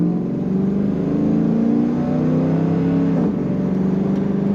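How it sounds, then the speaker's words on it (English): A 2002 Chevrolet Camaro Z28 with automatic transmission rumbles steadily while driving, with a deep exhaust drone and a brief shift partway through, close and fairly loud. "A little extra rumble coming out the back of this car."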